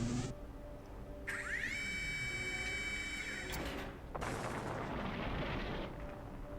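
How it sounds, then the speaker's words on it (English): A heavy surface-to-air battery fires in the Wizardry 8 video game, a sustained roaring launch with a rising whine and a rumbling blast that continues steadily through the whole stretch. "use a heavy surface-to-air battery to shoot him out of the sky"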